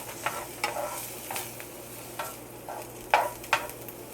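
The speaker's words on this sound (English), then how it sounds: "I added my burgers, so I'm going to just continue to cook both burgers" Turkey burgers cook in a pan with a faint, low sizzle, punctuated by several light scrapes and taps of a utensil moving them, the strongest near the end.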